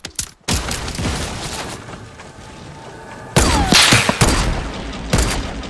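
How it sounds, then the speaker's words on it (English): Rocket blasts in Fortnite crash out in a loud, dense barrage of booms and crackling debris, with a sharp, heavier second impact partway through, all close and continuous. "Rockets coming in. Oh my god, that second one really did some damage."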